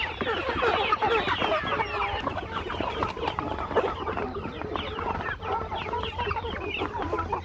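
A dense flock of desi (native) chickens clucking and squawking continuously while eating rice, many birds close by, busy and loud with no talking.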